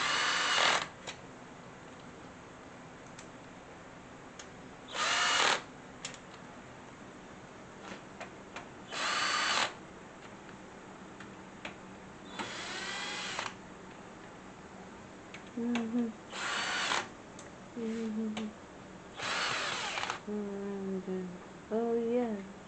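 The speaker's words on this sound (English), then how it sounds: "Power tool." Power tool driving screws while assembling a triple-column bookshelf, several short bursts of whirring spaced apart, with faint talk between them.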